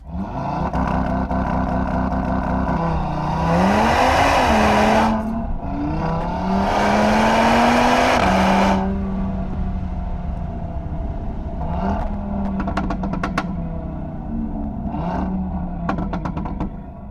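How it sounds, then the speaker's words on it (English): A modified Audi RS3 five-cylinder engine with a Milltek catback exhaust revs loudly and up close, climbing through several screaming rises and dropping back, followed by sharp crackles and pops on the overrun. "that screaming 5-cylinder engine"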